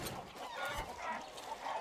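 The fighting rooster Chicharron in the video game Far Cry 6 clucks steadily over busy game noise, with a dense, continuous stream of short clucks.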